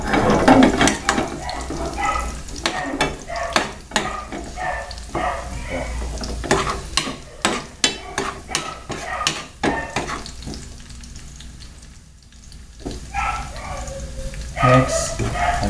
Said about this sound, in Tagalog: Silipin po natin yung ginigisa po.